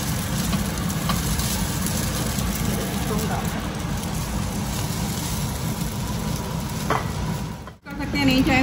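Carrots fry in a pan during spring roll prep, a steady dense sizzle running throughout, close and fairly loud, with a brief dip near the end.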